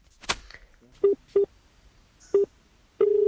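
Telephone keypad tones as a number is dialed: four short, even beeps spaced about a beat apart, the last one held longer, close and clear over a quiet background.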